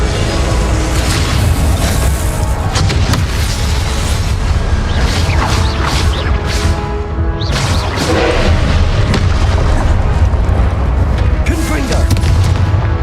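Confringo spell explosions in the Hogwarts Legacy video game: loud, dense booms and crashes follow one another without pause over a constant wash of game noise, with voices mixed in.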